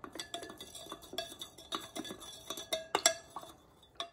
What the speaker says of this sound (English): Now mix well until it's dissolved.